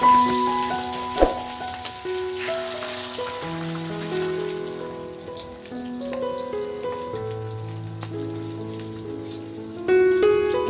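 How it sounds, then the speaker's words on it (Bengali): Rupchanda (pomfret) fish frying in hot oil, a steady crackling sizzle under music for the whole stretch, with a sharper pop near the start and a louder rise at the end. "রূপচাঁদ মাছ একটু সাবধানেই ভাজতে হবে।"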